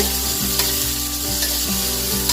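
Onion and okra fry in a pan while being stirred, giving a steady close sizzle broken by scraping stir strokes, with no voices.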